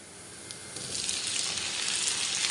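Chopped tomatoes hit a hot pan of sautéed garlic while cooking Filipino sarciadong isda, fish in tomato sauce, and a loud, close, hissing sizzle swells and holds steady.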